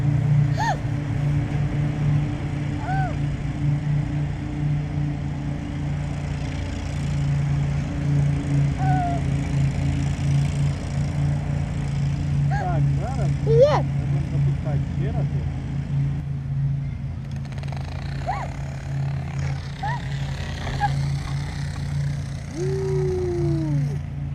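An Air Hogs Sky Commander toy helicopter powered by air pressure flies with a steady whirring drone throughout, while an adult and someone talk over it.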